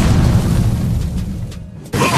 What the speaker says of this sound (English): Destroyed a tower.